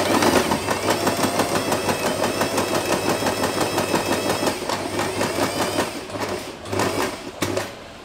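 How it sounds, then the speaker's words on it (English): A sewing machine runs steadily as it stitches fabric, making a close, rapid rhythmic whir that carries on for several seconds before slowing into a few separate clicks and stops near the end. "Now I will start sewing from the line here about, let's give it 1 inches here. I will start sewing from here."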